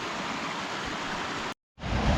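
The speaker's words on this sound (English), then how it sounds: "So here's Peabody Creek." Peabody Creek in Olympic National Park near Port Angeles, Washington, pouring from a culvert, makes a steady rushing wash of water that drops out briefly and then returns slightly louder and closer.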